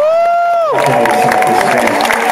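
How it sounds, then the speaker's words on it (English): Concert crowd cheering and applauding loudly at an outdoor Christian hip-hop show at a Strawberry Festival, a dense continuous roar of voices and clapping that swells right after a sustained sung or synth tone fades. "So a round of applause."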